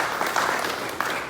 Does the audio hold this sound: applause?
yes